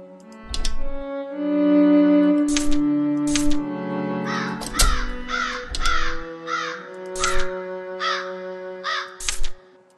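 Crows in the video game My Lovely Daughter caw repeatedly and loudly, with harsh calls coming in irregular bursts over a steady low game drone for about ten seconds.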